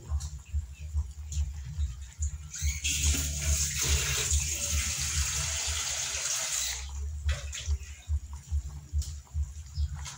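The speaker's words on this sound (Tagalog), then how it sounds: "Saka lagyan pa natin ng konting sabaw." Broth pours into a pot of chicken tinola with papaya, a steady splashing rush of liquid for several seconds between quieter stretches of stirring and clatter.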